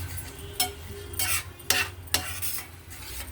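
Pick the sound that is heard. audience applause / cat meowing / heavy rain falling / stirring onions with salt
stirring onions with salt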